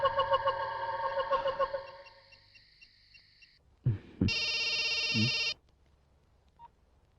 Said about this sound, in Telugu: హే నానిబాబు, ఏంటి ఈ టైంలో ఫోన్ చేసావు?